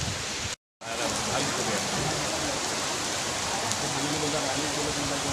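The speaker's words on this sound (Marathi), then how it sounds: "खूप जोराचा पाऊस येतोय" A heavy downpour heard from beneath a shelter shed drums in an unbroken, loud wash of rain, with a brief cut near the start before the steady roar resumes.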